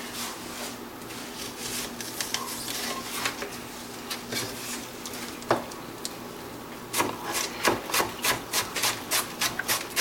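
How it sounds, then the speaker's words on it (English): A knife dices onion on a wooden cutting board for risotto, giving soft scraping rubs that become a quick run of rhythmic chopping taps near the end, close by and without talk. "So dice up a little bit of onion here."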